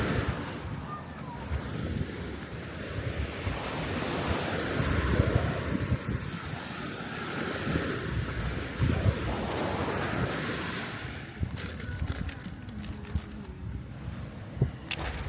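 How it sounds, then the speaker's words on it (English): Surf rolls in at Secret Beach on Koh Kut island, Thailand, with steady washing waves over heavy wind buffeting the microphone, continuous and fairly loud throughout. "So this is Secret Beach, guys, and I think so far one of the best beaches we've seen."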